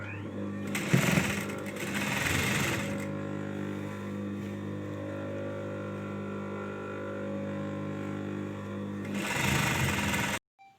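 A sewing machine stitches the elastic casing (nefa) on a sharara, enclosing wide elastic as it sews. The steady close mechanical hum swells louder in bursts at the start and end, then cuts off.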